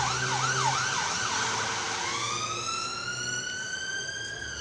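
An ambulance siren wails close and loud, a rapid rising-falling yelp for about two seconds that switches to slower, long drawn-out tones, with no voices over it.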